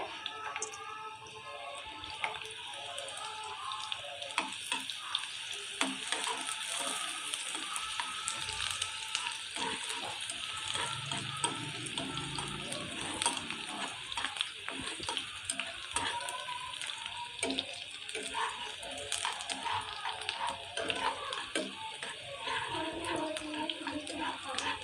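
Onion, garlic, whole garam masala, green chilies and whole red chilies fry in a pan with a steady, dense sizzle throughout, and occasional stirring and clinks sound close by. No one speaks.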